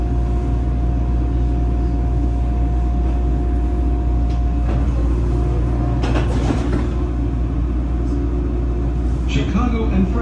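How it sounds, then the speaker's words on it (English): A CTA 3200 series Morrison Knudsen car on the Chicago Brown Line elevated rumbles steadily from inside, a constant loud drone with a faint tone and a few clanks and rattles over the tracks. "This is a brown line train to the loop."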